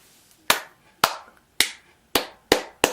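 Six sharp single hand claps land close and loud at uneven intervals, each a crisp smack with a short decaying tail, with near silence between them.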